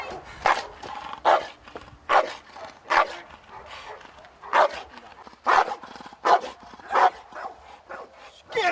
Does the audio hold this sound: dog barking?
yes